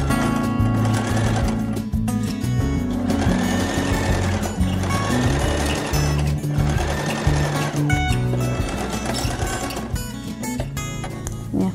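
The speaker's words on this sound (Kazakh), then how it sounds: "Енді қалтаның ортасынан тағы да бір тігіс жүргізсек болады." A sewing machine stitches down a fabric pocket on a kitchen textile, its motor whirring loud and close in a steady rapid rhythm that runs almost without break.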